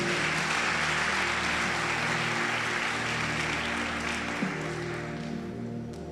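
Worshippers at a church service clap together in sustained, fairly even applause, with steady held musical tones running underneath and the clapping easing slightly near the end.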